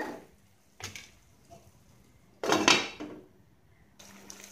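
A lid clatters onto a cooking pot of vegetables for sambar, with a few light metallic knocks first, then a louder scraping clank as it settles, followed by quiet.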